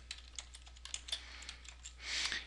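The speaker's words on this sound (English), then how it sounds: "I need to type my password" Rapid, light keystrokes on a computer keyboard entering a password, quiet and close in a still room, ending in a brief louder clatter.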